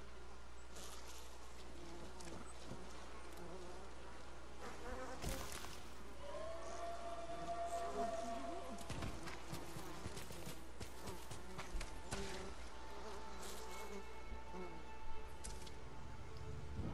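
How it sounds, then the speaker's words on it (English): Angry bees buzz in the video game Ghost of Tsushima, a droning swarm hum mixed with other game sounds and brief voices, at moderate loudness. "Angry bees may be a help."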